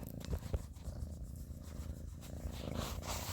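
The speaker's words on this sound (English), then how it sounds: "Let's see if we can get her magical purr." A cat named Tater Tot purrs softly and close in a steady rhythmic rumble, quiet and alone with no talking.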